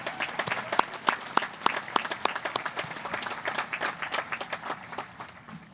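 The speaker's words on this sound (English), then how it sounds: "How about another round of applause for our trustees?" Audience applause at a high school graduation ceremony, a steady crowd of many hands clapping at moderate distance, with a few sharper individual claps standing out and the sound thinning slightly toward the end.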